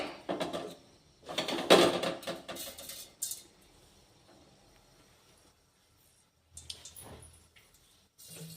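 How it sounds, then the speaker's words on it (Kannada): Cumin and mustard seeds crackle and spit in hot oil for an okra gravy, in short bursts of sharp popping and sizzling with quiet gaps between them. "ಜೀರಿಗೆ ಸಾಸಿವೆ ಹಾಕಿನಿ, ಚಟ್ಪಟ ಅನ್ನತ್ತಲ್ಲ"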